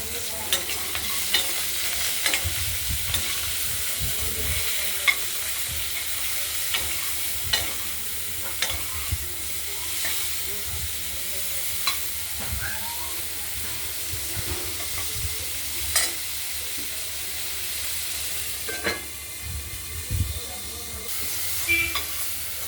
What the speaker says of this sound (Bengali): ঢাকনাটা খুলে ডাঁটাগুলো আরেকবার নেড়ে দেওয়া হলো